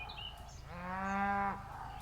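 A single cow moos once from some distance in a garden, a low drawn-out call lasting under a second over quiet outdoor ambience.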